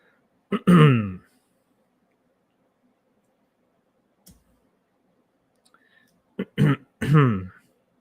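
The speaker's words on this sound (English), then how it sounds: "I keep having to clear my throat." Someone clears their throat with a harsh rasp, then a small click, then two more throat-clearing bursts a few seconds later, close up in silence.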